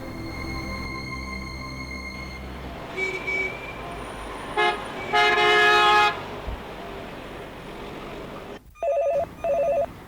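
A telephone rings in short bursts, first a few electronic trills then two loud double rings near the end, over a steady background hum with no talk.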